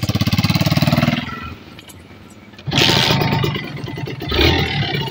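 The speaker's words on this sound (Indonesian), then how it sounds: "Oke, motor ini sudah hidup." Kawasaki Ninja RR two-stroke motorcycle engine starts and runs: a rapid close pulsing idle, then a lull and sharp bursts of loud, raspy revving.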